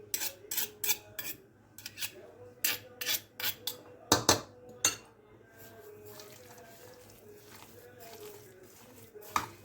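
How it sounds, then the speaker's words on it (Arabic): A large spoon stirs sweet potato tray ingredients with raisins in a tray, giving a series of sharp metallic clinks and scrapes in the first half, then quieter rubbing with faint background murmur. "هنقلبهم بقى بالمعلقة الكبيرة"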